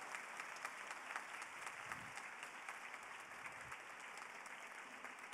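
Audience applause steadily filling the room after a group discussion at an educators' debate event, a dense, even wash of many hands clapping throughout with no talking.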